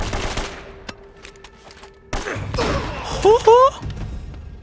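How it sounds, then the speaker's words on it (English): Shotgun fire in Uncharted: Drake's Fortune arrives as a couple of sharp, loud blasts amid busy game action, with speech over it and a short tonal whoop near the end. "He literally asked for a shotgun to the face."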